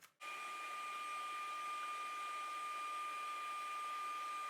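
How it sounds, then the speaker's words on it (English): A vacuum cleaner runs on a Passap knitting machine, switching on after a brief click and then holding a steady, fairly faint motor whine with high tonal hum throughout. "Then I use a brush and a vacuum to clean everything thoroughly."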